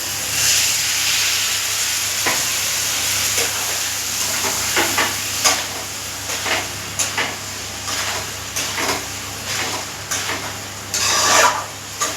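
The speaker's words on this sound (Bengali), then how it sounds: "সামান্য একটু জল দিয়ে দিচ্ছি।" A little water hits a hot pan and sets off a loud, broadband hissing sizzle, with repeated scraping stir strokes rising through the steam.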